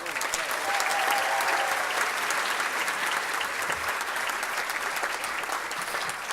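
Steady, sustained audience applause greeting an honoree at an awards ceremony stage, a full room clapping evenly throughout with light crowd noise.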